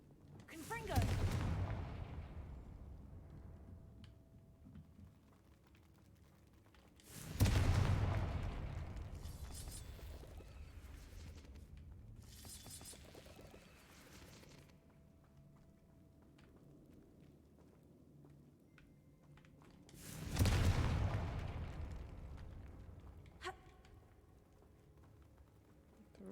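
Confringo fire spell explosions in the video game Hogwarts Legacy, three booming blasts spaced apart, each one loud at the hit and fading into a long rumbling tail, with quieter game noise between them.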